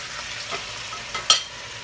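Beef seared in a pot for an old-school stew, giving a steady soft sizzle with a few brief utensil clinks and a sharper scrape near the end.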